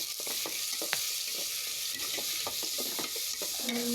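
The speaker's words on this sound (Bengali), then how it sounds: "এখন আমি ডালগুলো দিয়ে দিচ্ছি।" Lentils tossed into a pan of fried onion and garlic sizzle loudly while a spoon stirs and scrapes repeatedly, close and continuous, with no talking.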